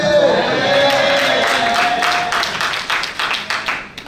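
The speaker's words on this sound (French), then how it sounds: "On peut s'applaudir." Members of a church gathering clap for themselves, a scattered round of hand claps rising under fading speech and tapering off into a few separate claps.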